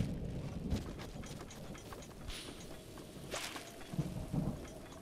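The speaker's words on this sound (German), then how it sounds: "Es regnet, das ist nicht gut." Rain and thunder in the video game Breath of the Wild: a steady hiss of rainfall runs throughout, with low thunder rumbles rolling underneath and a few brighter splashy bursts.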